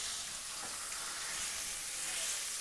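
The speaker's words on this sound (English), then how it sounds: "You want to hear that sizzle." Chuck roast seared face down on seasoning in a hot pan, a steady dense sizzle and crackle, close and continuous with no talking.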